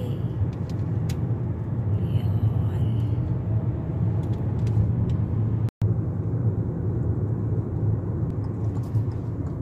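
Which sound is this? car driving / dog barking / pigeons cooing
car driving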